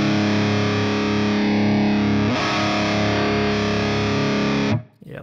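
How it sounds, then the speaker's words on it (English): Heavily distorted electric guitar played through a Fractal FM3 with an Orange cabinet simulation rings out as a sustained, dense chord alone, then cuts off abruptly near the end. "So let's hear how the orange cab sounds."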